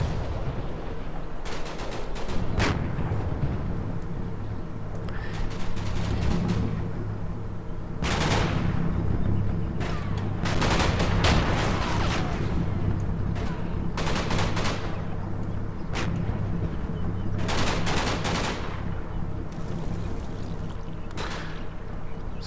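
Tanks in the Combat Mission Market Garden World War II game fire repeatedly at a vehicle, with sharp gunshots and bursts of fire arriving in irregular clusters over a constant low rumble.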